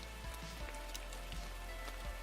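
Steady rain in a video game pours down as a constant droning hiss, with faint low thuds and scattered taps over the wash and no talking.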